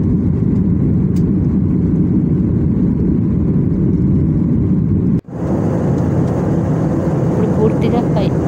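Airplane climbing after takeoff, heard from inside the cabin as a loud, steady low engine drone and rush of air; a brief cut midway, then a hissier continuation with faint higher tones.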